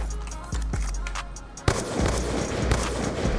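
Sharp gunshots in Black Ops 2, a few cracking reports over an ambient hum, then a louder blast-like burst followed by dense rumbling noise.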